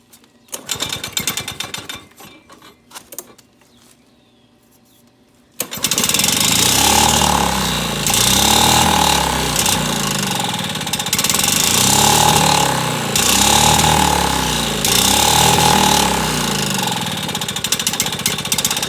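An old Lawnboy lawn mower engine sputters briefly, goes quiet, then catches and runs loud and close with a rough, pulsing rhythm that surges and dips without settling.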